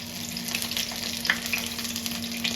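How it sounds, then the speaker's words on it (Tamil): Crushed garlic frying in hot oil for kara boondi gives a steady, close crackling sizzle with small pops scattered through it and a faint constant hum underneath. "இப்போ வந்து பூண்டு ஃப்ரை பண்ணிக்கலாம்"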